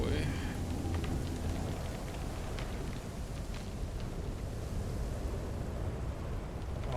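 Steady rain falling in a video game, a constant hissing wash of noise throughout at moderate level, with a voice talking over it.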